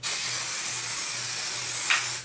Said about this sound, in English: I spray it just because I want it to get thicker.